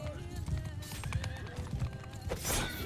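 Horses neigh and whinny amid clip-clopping hooves during a mounted battle in the Tamerlane Bandit Kingdom strategy game campaign, with archers firing nearby; several whinnies and hoof beats overlap with busy combat noise and voices.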